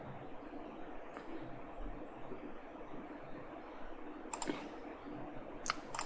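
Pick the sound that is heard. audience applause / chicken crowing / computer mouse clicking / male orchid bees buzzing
computer mouse clicking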